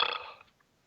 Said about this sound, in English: Oh, that was me burping.